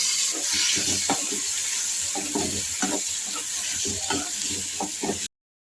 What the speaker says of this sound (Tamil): இப்போ நம்ம வேக வச்ச பயிரை சேர்த்துக்கலாம்